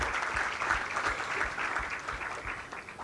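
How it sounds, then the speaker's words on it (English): An audience at a Teachers' Day event claps steadily for the HR community. The applause is a faint, even patter of many hands that holds throughout, without talk. "A big round of applause for the HR community."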